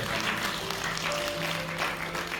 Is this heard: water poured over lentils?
no